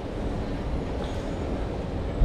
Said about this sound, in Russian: Метро.